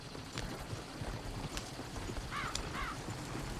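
Horse hooves clip-clop in Red Dead Redemption 2, a steady trot over outdoor game ambience with a couple of faint bird calls.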